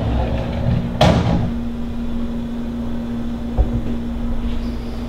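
A roll-out drawer in a rental house's built-in kitchen cabinets slides and bumps with a short sharp thud, followed later by a faint click, over a steady low appliance hum.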